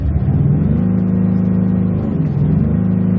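A car engine hums steadily at a low, even pitch, with a slight dip and recovery partway through; close and fairly loud, no voices.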